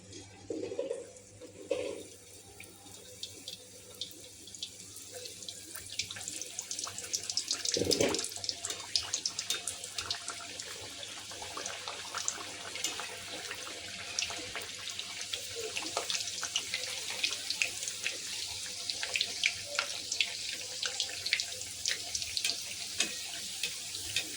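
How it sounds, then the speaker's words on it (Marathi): Soybean puris slide one by one into bubbling hot oil, and a steady crackling sizzle gradually grows louder and denser, with no voices. "हे बघा, तेलाला बुडबुडे येते. तेल आपलं कडलेलं आहे. आपण त्यात एक एक असे पुरे सोडून देऊ."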